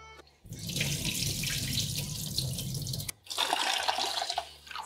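Tap water runs into a vessel while rice is washed, a close steady splashing stream that stops briefly midway and then resumes.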